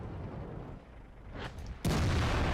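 Tank cannon firing in World of Tanks, a single sharp loud blast near the end after a quieter rumbling stretch and a faint earlier pop.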